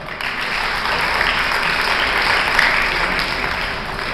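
Sustained audience clapping fills a community education gathering, a thick, even roar of many hands that continues at constant strength throughout.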